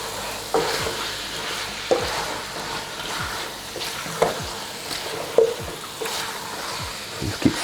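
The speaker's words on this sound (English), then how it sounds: "Just keep stirring" Chicken pilau fries in a pot as a spoon stirs it, giving a steady close sizzle punctuated by regular scraping knocks against the pot about every second, with no talking.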